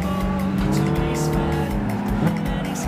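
A race car slides sideways in Gran Turismo 5, its tires squealing over a steady, loud engine whine throughout.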